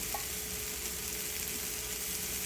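Chopped tindora (ivy gourd) sizzles steadily in a frying pan for a Maharashtrian-style fry, with soft stirring scrapes over a constant hiss of hot oil and no voices.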